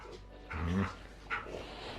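A dog gives a couple of short, muffled barks and yips close by, with quiet pauses between them.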